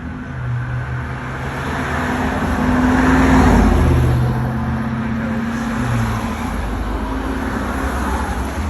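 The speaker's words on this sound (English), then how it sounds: "here's a video of the bus arriving" City bus on route 10 pulling into a stop amid steady traffic, a low engine drone that builds and then settles, with nobody speaking.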